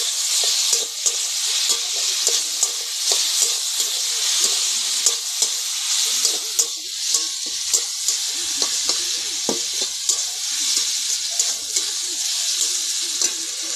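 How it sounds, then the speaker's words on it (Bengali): A vegetable mixture with a spoonful of sugar is stirred in a frying pan for Bengali vegetable chops, giving a steady bright sizzle with regular scraping strokes of the spatula, close and fairly loud, with no talk. "তারপরে ভালো করে নাড়া দিয়ে দেব"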